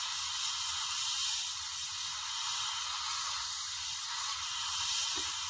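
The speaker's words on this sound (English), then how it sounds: "So we're just going to spray it freehand." Steady airbrush hiss of paint being sprayed freehand onto an Airfix 1/72 scale MiG-17 model, a continuous broadband spray held evenly close to the microphone for the whole stretch.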